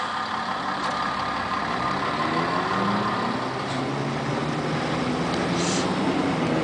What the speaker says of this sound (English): One of our famous North Bay buses.